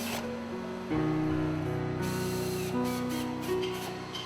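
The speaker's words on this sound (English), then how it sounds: "In the spray booth, Woodbender's spray painting team exercise skill and precision to ensure a perfect finish." Spray gun applying a wood stain finish to chairs in a spray booth, a loud steady hiss with tonal hum that pulses in several short bursts.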